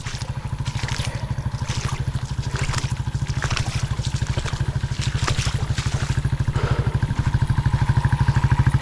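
A motorcycle riding along a sandy trail near Cap Santa Clara, its engine thumping in a fast steady pulse close by, with rattling and clatter from the bike over rough ground.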